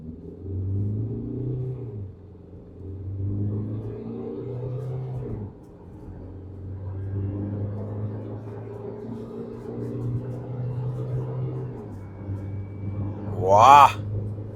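A Tata Sierra 2025 diesel SUV in sports mode accelerates from 0 to 100, its engine a steady low drone that builds gradually, with a brief sharp high-pitched sound near the end.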